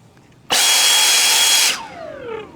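An EGO 880 CFM cordless leaf blower roars at full power, a loud steady broadband rush that starts abruptly and holds for about a second before cutting off, leaving a descending whine as the fan spins down.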